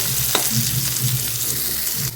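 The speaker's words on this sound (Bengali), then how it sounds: "যতক্ষণ এটা ব্রাউন করে ভাজা হচ্ছে ততক্ষণ কিন্তু এটা ভালোভাবে আমি এখানে ভেজে নেব" Chopped onions fry in a pan after spices are tempered in oil, a soft continuous sizzle with faint scraping, alone and fairly quiet.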